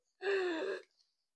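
A single sharp, drawn-out gasp for air, performed by a human voice imitating a breathless whale in a storybook reading, close and clear, followed by silence.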